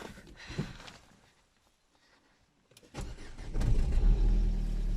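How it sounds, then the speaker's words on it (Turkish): A car with a frosted windscreen on a cold mountain morning: quiet rustling, a pause, then the engine cranks and catches, settling into a loud, close, rumbling idle. "Şimdi arabayı biraz çalıştıracağım."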